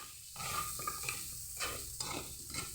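Meat and tofu get stirred in a hot frying pan, a sizzling hiss broken by repeated scraping strokes of a utensil against the pan at a steady rhythm, close and clear with no voices.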